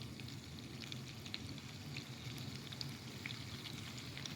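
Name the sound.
onions frying in pan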